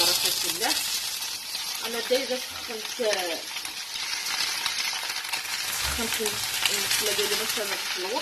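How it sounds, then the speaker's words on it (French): Spinach fries in a hot covered pan, a continuous sizzle with scraping stir sounds throughout, while people talk over it. "Là on a laissé cuire les épinards bien au chaud"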